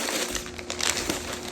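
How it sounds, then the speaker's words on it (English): A crinkly plastic surprise prize pack rustles and crackles close by in a continuous burst of dense crinkling, with no voices over it. "Sorry for the rustling."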